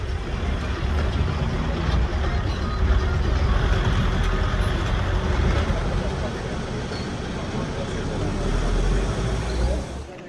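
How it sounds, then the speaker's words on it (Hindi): Steady rumble of a bus driving from Kasol to Manikaran in Himachal's Parvati Valley, a continuous close engine and road drone with rattling through the whole stretch, with no clear voices. "तो मैं बस से ही मणिकरण के लिए निकल गया"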